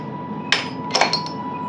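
A few sharp metallic clicks and clanks, close by, as a train door latch is slid and snapped shut.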